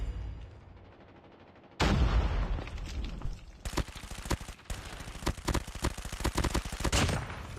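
Rapid, loud gunfire from Call of Duty Mobile, played at a world championship event. It comes in dense bursts and sustained automatic strings after a quiet opening, with sharp repeated cracks.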